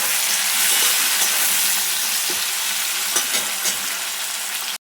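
Garlic and a dried red chilli fry in hot oil, giving a loud, dense sizzle with occasional light spattering pops and stirring clicks, then cutting off abruptly.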